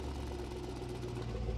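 Supercharged 5-liter engine of a 2020 Jaguar F-Pace SVR running steadily at low revs, a deep continuous hum heard close and alone.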